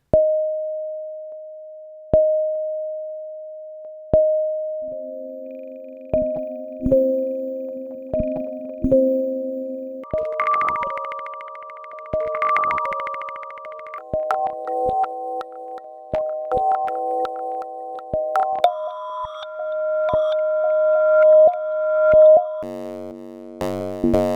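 Sparse electronic tones ring out through a randomized delay effect with echoing repeats, shifting pitch and texture as the pattern grows busier and glitchier toward the end.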